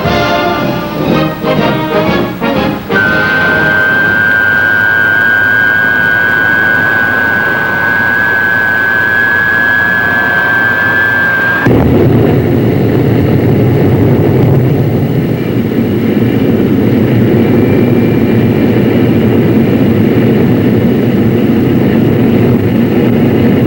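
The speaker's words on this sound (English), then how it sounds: "a McDonnell test pilot engineer is on hand to take the plane up" A McDonnell Banshee jet fighter's engine runs loud and steady, with a rising turbine whine that holds for several seconds before cutting into a broad, heavy roar as the plane taxis or gets under way.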